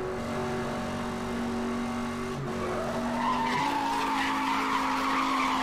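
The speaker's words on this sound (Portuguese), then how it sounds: "Segura no drift." A McLaren F1 drifts in Need for Speed Hot Pursuit Remastered, its engine holding a steady high drone while a loud tire skid squeals continuously beneath it for several seconds.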